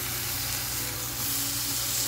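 Tomatoes dropped into a sizzling spice masala for stuffed bitter gourd give a steady, close, broadband sizzle of frying that swells slightly louder midway, with no voices.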